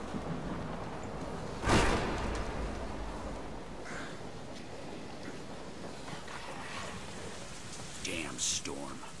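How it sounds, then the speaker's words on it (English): Steady storm rain hisses throughout a scene in the video game Deadlight, with a heavier thud early on and a voice briefly speaking near the end. "Damn storm. Yeah, damn storm. Man, rain."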